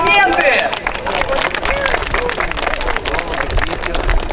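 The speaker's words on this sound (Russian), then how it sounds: "Аплодисменты!" A crowd applauds outdoors at the opening ceremony of a public square in Khabarovsk, with steady clapping mixed with babble and voices throughout.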